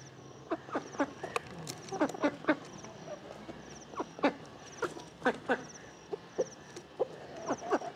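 Ducks and a rooster in a farmyard scrambling over scattered grain, with a run of short, sharp calls and squawks at close range, some overlapping, against a soft background patter.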